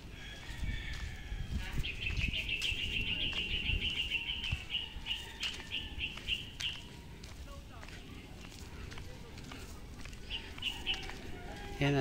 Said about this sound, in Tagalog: may mga ibon